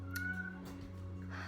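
A single cat meows once, a short high-pitched call close by, over a steady low hum in the background.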